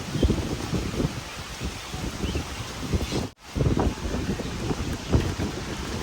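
Gusty wind buffets the microphone, producing rough, uneven rumbling bursts throughout with a brief dropout midway.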